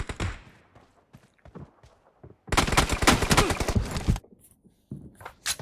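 Gunfire in PUBG Mobile: a few scattered shots, then a dense burst of rapid automatic fire lasting under two seconds, followed by quieter thuds and a final shot.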